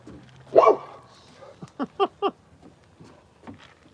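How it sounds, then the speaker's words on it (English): A dog gives a drawn-out yowl followed by a quick run of sharp barks, then a softer yip, close by against a quiet background. "The dog is trying to howl like an owl."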